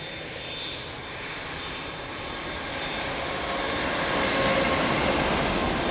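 Airliner coming in to land at Lisbon Airport, a broad steady engine roar that swells gradually louder as the plane draws nearer, with no voices.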